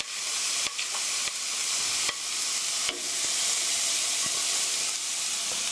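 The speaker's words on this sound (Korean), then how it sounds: "같이 넣어서 스타트 프라이 5미닛 5분 정도 볶아주세요." Chopped onion, welsh onion and carrot stir-fry in a hot pan, a steady loud sizzle and hiss with a few sharp clatters of the spatula scraping through the vegetables, no voices.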